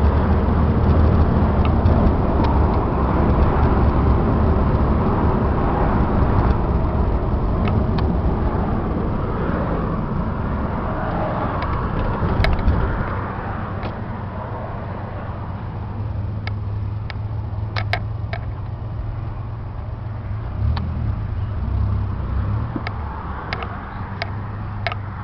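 A Ford Bronco II 4x4 with a V6 and five-speed manual transmission driving along, its engine a steady low drone with slight shifts in pitch and level, in good running condition.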